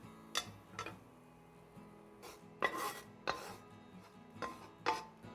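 Stir-fried mushrooms and broccoli are moved from a wok into a bowl, with several sharp clinks and scrapes of a utensil against metal and crockery spaced irregularly over a quiet kitchen background.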